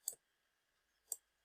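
Two crisp, faint mouse clicks about a second apart, close and isolated against near silence, made while drawing shapes on a computer.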